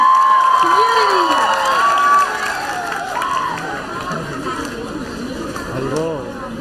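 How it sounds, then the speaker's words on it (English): A crowd at a carnival cheers and applauds for the Chakma Biju dance team from the Chakma community. The noise is loud and steady, with shouts and whistles over it, and a voice joins in near the start. "Let's give a huge round of applause, please, everybody, for Chakma community"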